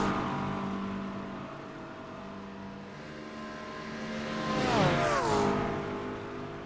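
GT3 race cars, including a Porsche, scream along at Le Mans in iRacing: a steady high engine whine, then a nearby car sweeps past with a sharp falling pitch before the drone settles again.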